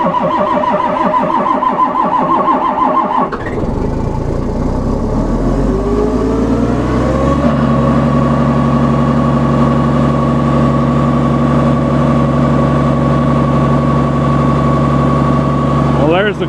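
A car engine cold-starting in about 12 below zero cranks for a few seconds, catches with a rough surge, then settles into a steady, loud idle.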